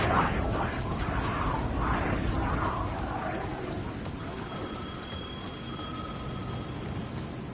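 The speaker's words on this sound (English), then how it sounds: "The phone was ringing again." A telephone rings several times in a faint, repeated trill over steady background noise in a dramatized scene, with the rings becoming thinner and more tonal toward the end.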